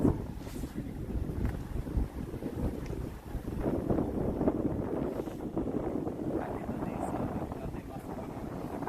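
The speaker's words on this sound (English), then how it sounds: "I suppose it's always this windy, right? Or it's quite windy." Strong wind buffets the microphone outdoors in a continuous, roaring rush with gusty surges over about nine seconds, with faint voices partly buried underneath.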